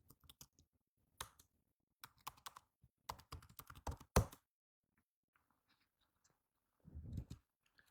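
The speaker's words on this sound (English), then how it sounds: "The new one, let's type a new password." A new password is typed on a computer keyboard during an F5 BIG-IP admin setup; faint, close key clicks come in short irregular bursts with one sharper press, then a brief soft rustle and quiet.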